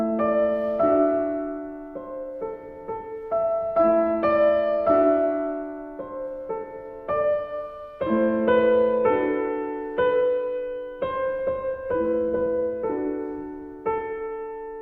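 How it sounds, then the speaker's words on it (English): A Béla Bartók piano piece for children plays alone, a steady sequence of clear single notes and chords at moderate volume, each phrase sustained and decaying before the next begins. "The piano track from Béla Bartók"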